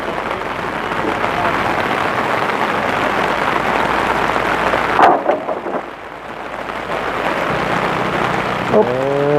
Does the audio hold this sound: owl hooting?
no